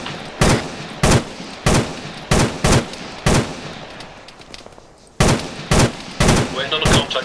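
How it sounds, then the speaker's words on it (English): Gunfire in the military video game ArmA 3 during a British milsim section training session: loud, sharp bursts roughly every half second to a second, with a short lull before the shooting resumes. "K, section, suppress fire."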